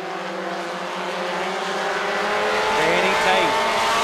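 Race cars at Wythe Raceway speedway in a weekly division race, engines droning steadily with a rising whine as they pass, continuous and fairly loud, with a voice calling the race over them.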